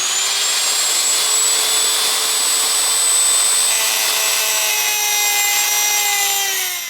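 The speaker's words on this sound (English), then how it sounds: "I have my Dremel tool here with a little grinder bit on here" A Dremel rotary tool fitted with a small grinder bit grinds teeth into a metal socket for a homemade SR Suntour fork adjuster cap tool, a steady high-pitched whine with gritty abrasion running continuously, loud and close.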